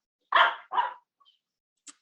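Dogs give two quick close barks in a row, followed by a faint short yip after a pause, in an otherwise quiet setting.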